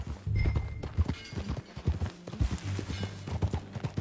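Horse hooves clip-clop in the Red Dead Redemption 2 video game, a close, steady rhythmic trot of hollow knocks continuing without pause.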